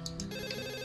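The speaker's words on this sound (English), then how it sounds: "it becomes obvious that the sound's coming from her phone" A phone rings softly in the visual novel game Katawa Shoujo: a short electronic ringtone with repeated tonal chimes, steady and gentle, alone without speech.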